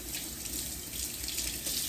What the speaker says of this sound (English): So I'm just washing it up. Boy, this water is cold.